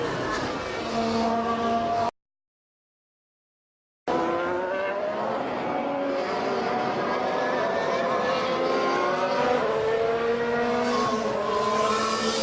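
Formula 1 cars scream down the main straight during practice at the 2017 Brazil Grand Prix, their engine whine rising in pitch and loud throughout. The sound cuts out for about two seconds early on, then returns with commentary voices underneath.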